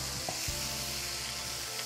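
Leftover lechon paksiw sautéing in a hot pan, a steady broadband sizzle with a few faint scrapes of a utensil, close and continuous throughout.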